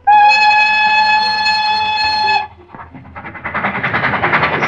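A passing train sounds a long, loud steady whistle for about two and a half seconds, then it cuts off and the rhythmic rattle of rolling wheels and cars rises close by.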